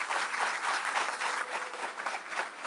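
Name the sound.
applause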